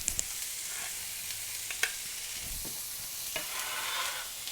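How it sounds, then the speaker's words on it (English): Chopped onion sizzles in a skillet that just cooked shrimp, a quiet steady frying hiss with a few stirring scrapes and clicks, close and without talk. "we're gonna add the onion into the same skillet where we just cooked our shrimp."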